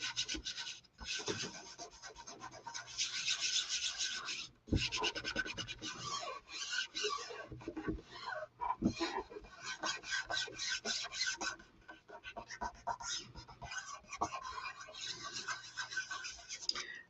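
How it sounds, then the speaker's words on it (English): A chalk transfer is burnished onto a tray with steady, raspy rubbing strokes, close and continuous with brief pauses between passes. "And then I'm just going to burnish it down."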